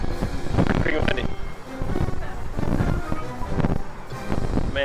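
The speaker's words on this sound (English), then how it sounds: "Pretty windy." Gusty sea wind buffets a microphone atop a lighthouse overlooking a rough inlet, a steady roaring rush with swelling gusts, while people talk over it.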